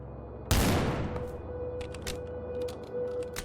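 A burst of gunfire in Amygdala: Prelude, a Half-Life engine game: a loud sharp shot kicks off, then a ringing decaying tail with a steady tone and several quieter clicks and impacts scattered through the rest.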